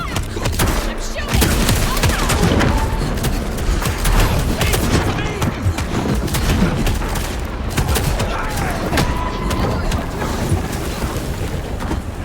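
Gunfire in Vampire: The Masquerade Bloodlines 2, with dense, steady shots and bursts filling the whole stretch, loud and busy over game ambience, with speech mixed in.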